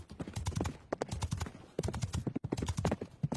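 Rapid hooves clip-clop in quick, rhythmic bursts, fairly close and moderately loud, with a brief pause in the middle.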